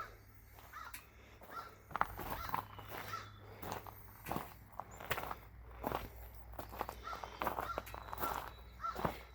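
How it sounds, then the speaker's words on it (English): Ravens and crows cawing repeatedly in irregular bursts, some near and some farther off, over soft outdoor background noise with occasional shuffling footsteps. "the ravens and crows are really noisy today"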